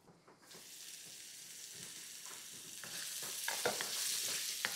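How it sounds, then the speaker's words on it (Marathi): Broccoli and French beans sautéing in a pan with only a little oil, giving a steady soft sizzle that grows louder toward the end, broken by scattered stirring scrapes. "ब्रोकोली, फ्रेंच बीन्स ह्याला छान परतून घ्यायचं"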